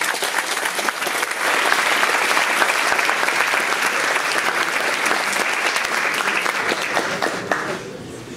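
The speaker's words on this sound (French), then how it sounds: "Je vous demande de l'applaudir aussi." Dense, steady applause from an audience at a French oratory debate event, a continuous wash of many hands clapping at close range for about eight seconds before tapering off at the end.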